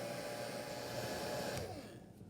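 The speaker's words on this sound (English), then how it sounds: "I'm just going to hold the hairdryer very close to this joint and put it on low for about 30" Hair dryer on its low setting held close to an action figure joint, a steady airy whoosh with motor hum, close and continuous before tapering off at the end.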